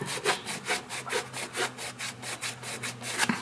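A rag damp with carburetor cleaner rubs back and forth over a serial-number tag on a 1998 Yamaha G16 gas golf cart, about a dozen quick, even scrubbing strokes close up.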